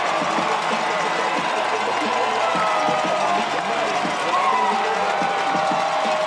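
A large football crowd roars steadily in a stadium as the Calvin Knights take the field, a dense continuous cheer with scattered shouts and no break.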